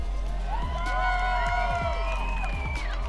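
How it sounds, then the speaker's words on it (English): American fans cheering at the UCI BMX Racing World Championships, a lively crowd with whoops and shouts swelling around a nearby talking voice. "behind me I've got a contingent of Americans that have been cheering super loud"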